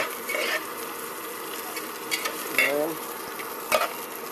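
Yasibu sautés in a pan with a steady low sizzle, and brief louder hisses and stirring scrapes come at intervals, all close and without talk.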